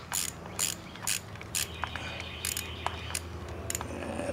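A 1/4 inch drive ratchet works a rocker box bolt on a 2008 Sportster XLC, giving close, rapid bursts of metallic clicking in an uneven rhythm, several short runs of ratcheting separated by brief pauses.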